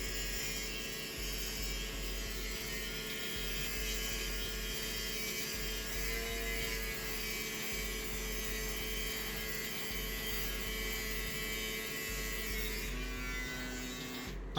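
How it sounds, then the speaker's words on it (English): A budget ELEHOT electric razor's edger attachment buzzes steadily while trimming hair, a close, continuous motorized hum that holds nearly level for the whole stretch and shifts pitch slightly near the end. "I don't really use this much the edger, but we're gonna try to see how it does."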